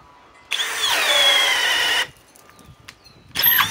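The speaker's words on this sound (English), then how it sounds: "this is the HERCULES brushless 1200 inch pound drill driver with an 8 amp extreme performance 21700 cell battery, speed 2, drill mode." A Hercules brushless 1200 inch-pound drill driver on an 8 amp 21700-cell battery, set to speed 2 in drill mode, whines loudly for about a second and a half, stops, then starts again briefly near the end.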